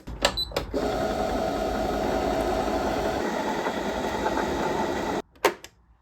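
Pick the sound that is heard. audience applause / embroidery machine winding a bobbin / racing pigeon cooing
embroidery machine winding a bobbin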